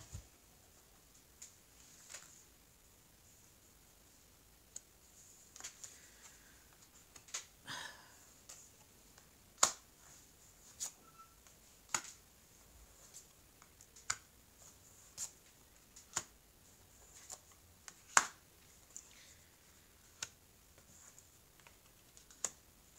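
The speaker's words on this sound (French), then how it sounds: "je vais étaler les cartes" Tarot cards being spread out on a table during a reading: a series of sharp, light taps and snaps, irregularly spaced and close, over near silence with no talk.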